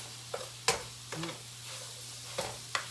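Sausage browns in a pan while being mashed, a quiet low sizzle broken by a few sharp scraping and knocking strokes of the utensil against the pan.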